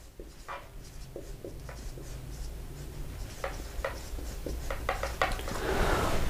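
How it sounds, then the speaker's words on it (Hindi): Chalk or marker writing on a board during a 12th-grade chemistry lesson on alkyl halides, heard as a run of short scratchy strokes at moderate level over a steady room hum, with no talking. "तो पहला पॉइंट मैं यहाँ पर लिखता हूँ"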